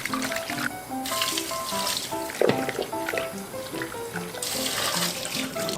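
Salted giant clam meat rinsed under a running kitchen tap, a steady close stream of water splashing into a sink with small knocks and clatters of the meat and hands throughout.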